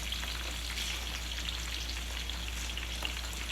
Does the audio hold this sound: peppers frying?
yes